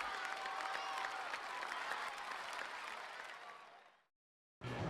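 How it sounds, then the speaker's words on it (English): Crowd applause from the Xbox version of Rollercoaster Tycoon at the end of the Iceberg Islands scenario: dense, crackling clapping that thins and fades away, then a short burst of game sound. "Everyone claps and drops their balloons."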